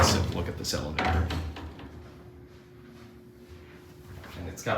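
The side door of a vintage Otis hydraulic elevator slides along its track with rumbling, clunking thuds at the start, then a low steady mechanical hum. People talk over the sound nearby.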